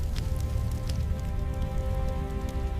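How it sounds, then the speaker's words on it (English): Rain falls steadily in a dense, even hiss of drops striking surfaces, continuous and fairly close with no voices. "The rain returns, but it cleans nothing."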